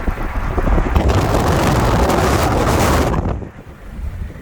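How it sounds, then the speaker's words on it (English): Strong gusty wind buffets the microphone with a loud roaring rumble, then drops away abruptly near the end. "it's windy today"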